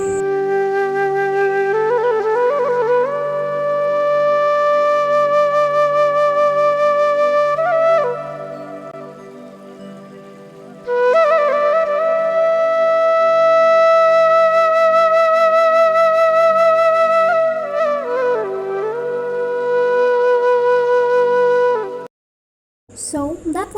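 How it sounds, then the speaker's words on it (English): Carnatic bamboo flute playing a long, sustained melodic line with bends and ornamented slides, two extended phrases separated by a short pause, steady and fairly loud with no talking. "The sound of a flute is called tootle."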